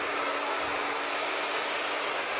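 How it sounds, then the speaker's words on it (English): A blow dryer runs in a salon while hair is being dried, giving a loud, steady, unbroken whoosh of fan and airflow that lasts throughout with no talking. "Always pay attention to the positioning of your blow dryer and your brush."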